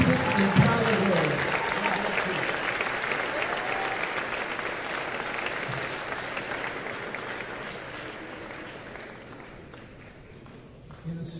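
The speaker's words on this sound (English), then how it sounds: "Can we all stand to our feet and give Mr. Smallwood just a round of applause?" An audience at a gospel music tribute concert applauds steadily for a standing ovation, a dense, sustained wash of many hands clapping that slowly tapers toward the end.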